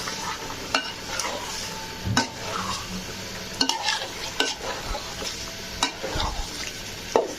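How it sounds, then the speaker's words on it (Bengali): Chicken roast pieces being stirred in a frying pan, with scattered spoon scrapes and knocks over a steady soft sizzle, close and fairly quiet, no talk. "হালকা একটু নাড়াচাড়া করব।"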